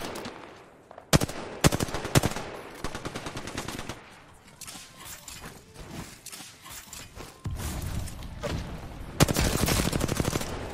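Apex Legends gunfire, several rapid automatic bursts and single cracks in irregular clusters, some loud and close and others quieter, with footsteps between the volleys.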